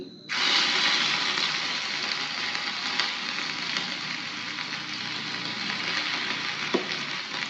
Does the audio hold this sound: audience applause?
no